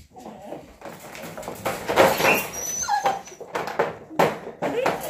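A female dog whimpers and yips in short high-pitched whines, close by, mixed with people talking and some rustling.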